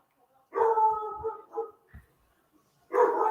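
A dog barks at home at night in a few bursts, moderately close, with short gaps of quiet between the barks.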